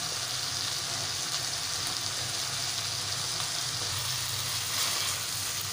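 Chopped cabbage frying in a spiced yogurt masala, a steady, even hiss of sizzling, close and continuous, no talking.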